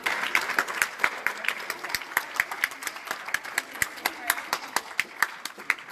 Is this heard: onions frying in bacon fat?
no